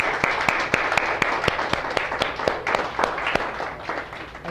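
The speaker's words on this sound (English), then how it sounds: "I just want to give them a round of applause" An audience at a children's court summit claps in a round of applause, a steady burst of many hands close to the microphone that thins out toward the end.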